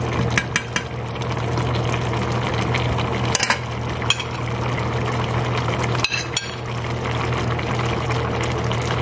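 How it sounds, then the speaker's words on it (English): Curry long beans (bodi) simmering and boiling down in a pot, a steady soft bubbling hiss with a few faint clinks, no talking. "So I'm just going to let this boil down a little bit."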